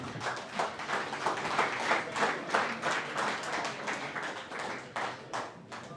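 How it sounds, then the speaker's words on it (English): An audience at a boxing event applauds the two boxers, with steady dense clapping from a crowd in the hall and no talk over it. "So a round of applause for both of these lads."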